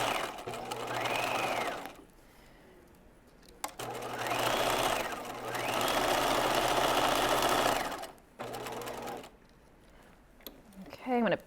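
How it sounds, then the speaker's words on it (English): A sewing machine straight-stitches the lower edge of a pair of cigarette pants at a 5/8-inch seam allowance. It runs in several loud bursts of steady whirring, with brief pauses between runs. "Stitch that lower edge at 5/8 of an inch."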